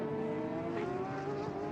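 A race car at the IMSA WeatherTech SportsCar Championship in Monterey rolls into the pit lane low on fuel, its engine a steady droning hum with tonal harmonics, fairly near and continuous throughout.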